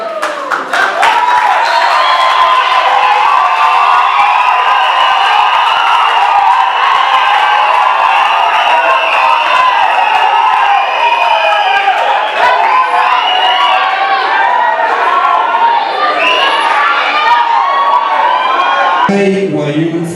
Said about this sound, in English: this is the only moment during the debate that the crowd is allowed to cheer